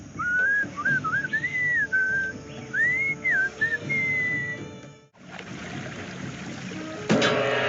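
A whistled tune from the Sam and Max Beyond Space video game drifts through in lilting melodic phrases over a steady musical backing, then breaks off midway as a different busier background takes over.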